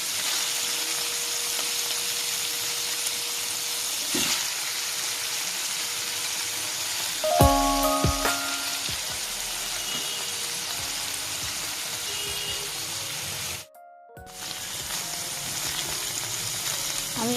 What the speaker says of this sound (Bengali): পনিরগুলোকে আমি একদম হালকা ফ্লেমে ভাজছি, একদম স্লো ফ্লেমে